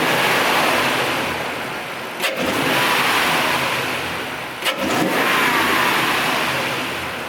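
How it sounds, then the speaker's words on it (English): A Toyota Tundra's 5.7-liter V8 fitted with a Dynamic Black aftermarket intake revs hard and loud, with a steady roaring drone and two brief blips as the throttle is blipped, no talking. "I'll go ahead and rev it real quick for you guys so that you guys can hear the intake."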